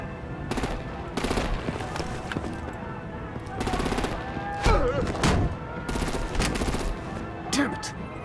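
Bursts of rapid automatic gunfire and heavy artillery-like blasts in the video game Batman: The Enemy Within, loud and repeated in several volleys, with shouted voices and tonal effects mixed between the shots.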